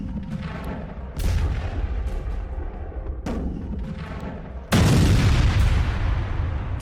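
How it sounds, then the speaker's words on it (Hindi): US missile strikes hit a Venezuelan boat, heard as heavy booming blasts followed by a sustained roar and rumble, with a sharp, much louder detonation about two-thirds of the way through. "यह वेनेजुएला की वो बोट है जिस पर 2 बार अमेरिका ने मिसाइल से स्ट्राइक की है"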